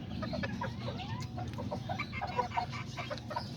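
Azteca chickens and a rooster clucking in a coop, a series of short, soft clucks and chirps over a low steady background hum, with no talking.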